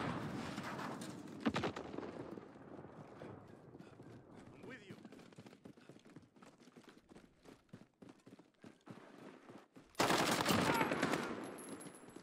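Gunfire in the shooter game Modern Warfare during team deathmatch, rapid bursts scattered through the clip with a loud, dense burst near the end, mixed with game effects.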